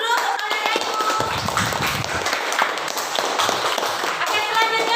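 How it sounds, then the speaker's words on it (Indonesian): A classroom gives a round of hand clapping, steady and close, with many sharp overlapping claps across the whole stretch and some voices mixed in. "kasih aplaus dulu untuk saudara Ibu"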